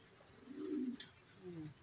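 A pet bird coos softly nearby in a couple of low, short rolling calls, with a faint high chirp and quiet room background.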